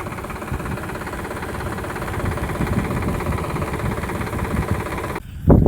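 A tractor engine drones steadily and loudly while an automatic sprayer works a sorghum field, the rumble holding constant before a brief louder thump at the end.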